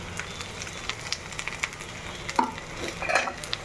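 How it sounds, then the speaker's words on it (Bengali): Fish coated in chili powder, turmeric and salt fries in a pan and is stirred, giving a soft sizzle broken by scattered pops and scraping taps. "এখন আমি মাছটাকে এটার সাথে খুব ভালো করে মিশিয়ে নেব আর সুন্দর করে ভাজা ভাজা করে নেব"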